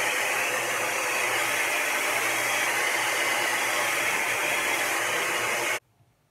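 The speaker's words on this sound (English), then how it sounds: "And I am using a Cibu Revolution dryer, which is pretty good. It dries my hair pretty fast." A Cibu Revolution hair dryer blows steadily with a loud, even rush of air, then cuts off abruptly near the end, leaving near silence.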